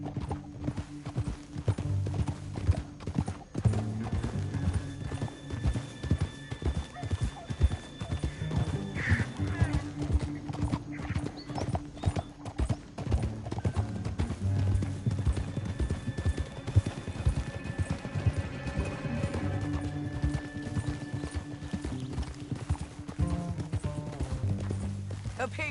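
Galloping hooves pound on and on beneath a music score, with a horse neighing and some faint voices over the clatter.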